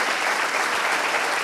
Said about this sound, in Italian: facciamo un applauso a Viola.